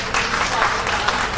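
A classroom audience gives a short burst of clapping for a student, a brief round of applause that carries on loudly for just over a second.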